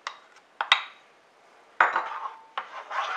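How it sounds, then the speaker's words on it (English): Flour, salt and pepper being stirred into a pan on the stove, giving sharp metallic clinks and scrapes of a utensil against the pan in irregular bursts, fairly close, with no talking. "And we're going to just mix that right in."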